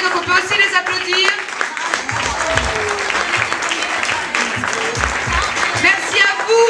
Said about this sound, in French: Donc on peut aussi les applaudir.